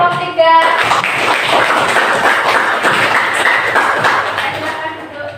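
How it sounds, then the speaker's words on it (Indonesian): A classroom of students claps for a presenting group, a steady burst of many hands close by that runs throughout, with some light thumps and faint voices mixed in before it tapers slightly at the end. "Berikan tepuk tangan untuk kelompok 3."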